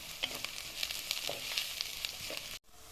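Onions sautéing in a pan with a steady close sizzle and crackle, light pops scattered through, cutting off abruptly just before the end.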